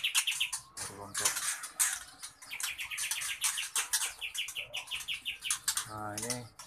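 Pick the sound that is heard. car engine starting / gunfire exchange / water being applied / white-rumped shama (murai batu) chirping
white-rumped shama (murai batu) chirping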